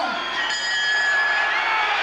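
A boxing crowd at a Chris Eubank fight roars and cheers steadily through the final round, a dense, sustained wash of many voices with shouts and whoops rising from it.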